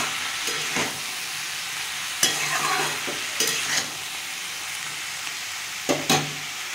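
Cumin powder fries in a pan with a soft steady sizzle, broken by several sharp spatula scrapes and clinks against the pan as it is stirred, close up with no voices.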